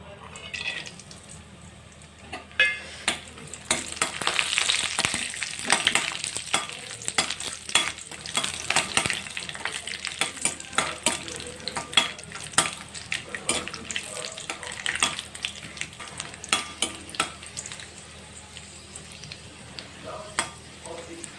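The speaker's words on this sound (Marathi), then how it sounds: "आपण हे फ्राय करून घेऊ फ्राय करून काढून घेऊ" Cashews, almonds and raisins fry in hot fat in a pan, a continuous crackling sizzle with frequent spoon scrapes and stirring clatter, close up.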